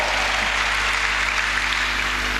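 A church congregation at an Indonesian prayer service breaks into applause, a continuous wash of clapping over a steady low hum, even and sustained for the short stretch.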